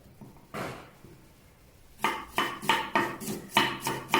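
A knife chopping green chilies on a board, about eight crisp, sharp chops in a steady rhythm after a lone early cut, close and clear with no talk.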